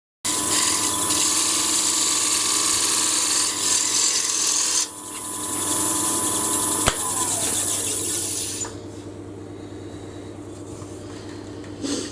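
A power sander grinds steadily against a wooden barometer frame, then its pitch and loudness drop as it slows and continues more quietly; no voices.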